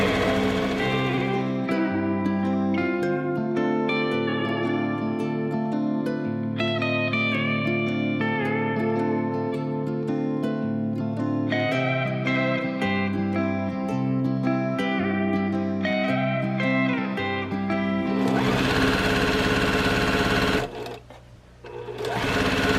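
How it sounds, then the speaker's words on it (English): A sewing machine stitches rows of patchwork pieces for a slouchy boho bag at a quarter-inch seam. It runs steadily and close in long continuous bursts, with a brief pause near the end. "I'm going to continue sewing my 3 rows"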